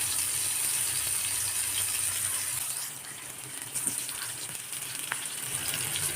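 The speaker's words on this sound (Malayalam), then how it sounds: "ഇതുപോലെ വറുത്തെടുത്താൽ നമുക്ക് ചോറിലേക്ക് നല്ല ടേസ്റ്റാണ് കേട്ടോ വഴുതനങ്ങ" Brinjal (eggplant) slices frying in a pan, a continuous close sizzle and hiss that dips briefly midway and then resumes, with a few faint clinks and no voices.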